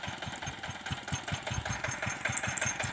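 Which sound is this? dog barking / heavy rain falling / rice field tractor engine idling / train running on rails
rice field tractor engine idling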